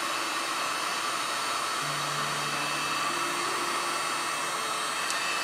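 Heat gun blowing hot air onto the edge of a plastic front splitter on a custom Dodge Charger build, a steady close broadband rushing hiss lasting throughout with no talk.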